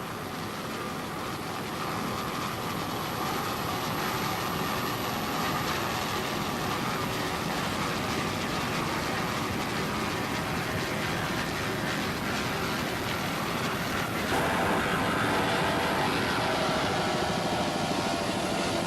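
Offshore racing powerboats roar at the 1988 Offshore Grand Prix in Atlantic City, New Jersey. A dense, continuous engine drone holds steady and loud throughout with no voices.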